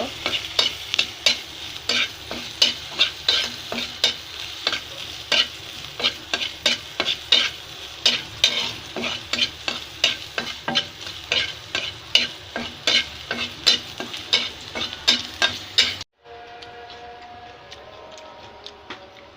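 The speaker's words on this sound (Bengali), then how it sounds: "এখন একটু নাড়াচাড়া করতে হবে ব্রাউন কালার হওয়া পর্যন্ত।" Food fries in a pan while a utensil stirs it in a fast, regular scraping rhythm over a continuous sizzle, close and loud. The stirring stops near the end and only a softer sizzle remains.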